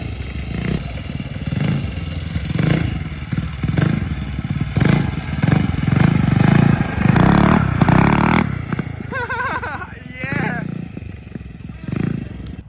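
A $50 mini bike engine runs and revs near the listener, its buzzy motor rising and falling through snappy throttle blips, with people talking over it throughout.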